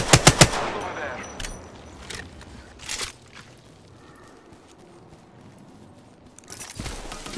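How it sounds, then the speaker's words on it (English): Gunfire in Apex Legends as the player takes hits: a rapid burst of three sharp shots at the start, then scattered single reports and a final loud flurry near the end, with quieter gaps between. "Shots fired and they're hitting me."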